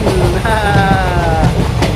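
Model train with CC206 and CC203 locomotives running on a diorama track: a loud, steady rolling rattle with a brief high tonal squeal or horn-like whine partway through, close by.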